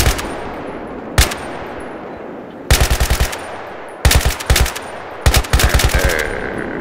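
A gunner firing in Battlefield 3: four loud bursts of rapid automatic shots, each a quick staccato volley separated by short pauses, close and dominant.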